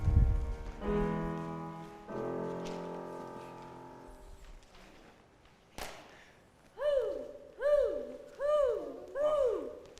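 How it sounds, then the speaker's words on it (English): A hooting bird effect in a stage production of Hansel and Gretel plays as a run of loud, rhythmic, warbling hoots after some sustained tones and a sharp hit. "Oh, it's the big Wally bird. You frightened us."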